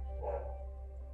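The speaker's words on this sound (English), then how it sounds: "the dog is barking" A single dog bark in a home, faint and somewhat distant, over a steady low hum.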